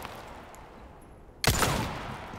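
A single sharp gunshot rings out in Resident Evil 4 Remake on hardcore difficulty, breaking a quiet, low ambient hum and leaving a loud reverberating tail.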